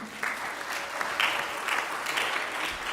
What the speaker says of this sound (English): You can applaud now for a minute